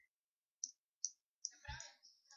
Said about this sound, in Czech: Já klikám